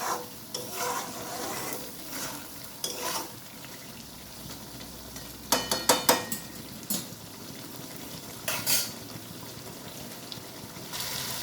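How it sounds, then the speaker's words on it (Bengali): Spice masala with poppy seeds, cumin, turmeric, salt, chili powder and green chilies sautés in a pan, giving a steady low sizzle with intermittent scraping stirs and a few louder clatters of the spoon against the pan. "এবার এটা ভালো করে কষিয়ে নিতে হবে"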